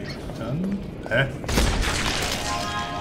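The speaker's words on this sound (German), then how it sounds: "Wie ist das gerade explodiert?" An explosion in the action role-playing game Sacred 2: a sharp shattering blast bursts out after some low murmuring game sounds, followed by a lingering crackle and rumble at moderate level.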